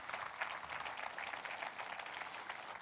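A congregation at a church service applauding, a steady wash of many hands clapping at a distance, fairly faint and continuous with no speech.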